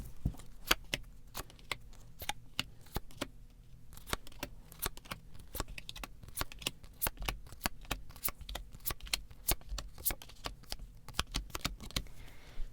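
Tarot cards are handled and laid out in a quiet room: crisp, close paper flicks and slaps come in an irregular stream of sharp taps, with small shuffling rustles between them.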